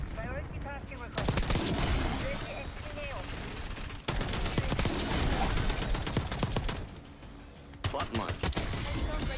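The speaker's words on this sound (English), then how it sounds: "This might be my new favorite LMG in the game." Light machine gun fire in Black Ops 6, long loud bursts of rapid automatic shots with short pauses between them, while a voice talks over the gunfire.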